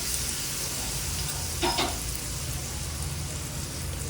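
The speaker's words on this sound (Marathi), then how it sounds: "आता हा तडका आपण या मिश्रणात ॲड करूया" Steady, loud sizzle of a hot tadka with kasuri methi hitting a potato-yogurt mixture for Nepali chukauni, with a brief sharper burst partway through and no talk.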